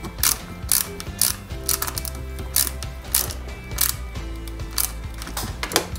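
Small screws are driven by hand to fix the seat of a Bugatti Veyron 16.4 Super Sport scale model, giving close, repeated ratcheting clicks and faint scraping.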